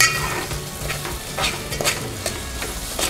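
Khichdi being stirred and mixed with salt in a hot pan, a spoon scraping and clinking against the metal over a continuous sizzling fry, close and fairly loud.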